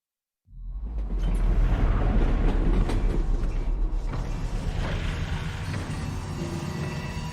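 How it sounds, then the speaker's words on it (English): Rumbling, creaking mechanical clatter of a train running in the Half-Life video game, a loud steady low roar starting abruptly and continuing throughout without speech. "Did the train stop? It stopped, didn't it?"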